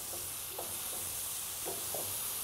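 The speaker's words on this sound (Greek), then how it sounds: "Και φυσικά, πολύ πολύ καλό ανακάτεμα." Tomato sauce sizzling in a pot on a stovetop while being stirred, a steady close hiss of frying with a few soft scraping stirs spaced across it.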